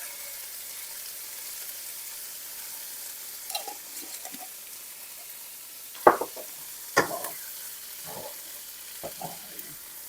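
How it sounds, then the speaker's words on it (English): Homemade spaghetti sauce simmers quietly in a pan under a soft, steady hiss, broken by a few louder scraping stirs and clinks near the middle and later on. "Put that in there and let it just kind of all bring together real good. Let that simmer for just a little bit here."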